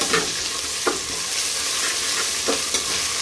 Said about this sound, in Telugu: ఇప్పుడు మనం దీంట్లో జింజర్ గార్లిక్ పేస్ట్ అయితే వేసేద్దాం. బాగా మిక్స్ చేసుకొని